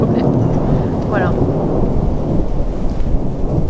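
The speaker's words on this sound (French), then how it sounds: "Et alors sous l'orage, il y a une ambiance très particulière." A thunderstorm in the Thrace region of Greece, with loud rumbling thunder rolling over steady heavy rain for several seconds and no voices.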